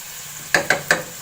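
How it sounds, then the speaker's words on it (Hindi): Minced meat keema with garlic frying in a pan, a low background sizzle broken by three quick scraping stirs of a spoon against the pan, close up. "फिर मैं डालूँगी लहसुन, उसमें भी इसको फ्राई करूँगी ताकि खुशबू आए।"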